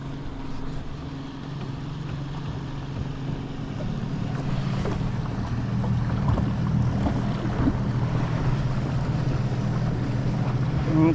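A kayak trolling motor running on a 100Ah lithium battery hums low and steady out on the water, with a faint rattle mixed into wind noise and lapping water.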